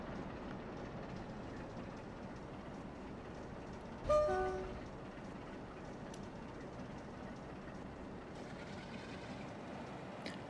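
A Trainz Simulator train pushing coupled carriages gives a quiet, steady rolling rumble, broken midway by a short horn toot before the low drone carries on.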